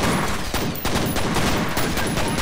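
Loud sustained gunfire in the first-person shooter F.E.A.R., dense overlapping bursts of automatic shots with a few brief gaps, close and continuous throughout.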